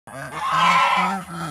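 Domestic geese kept on fermented feed give a short burst of loud, nasal honking, several overlapping calls close by in a rapid, repeating rhythm.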